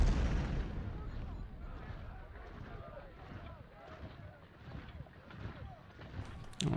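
Artillery bombarding ironclads in Ultimate General: Civil War, with rolling cannon booms and distant blasts over a windy, watery backdrop that swell and fade for several seconds, plus a sharp burst at the very end.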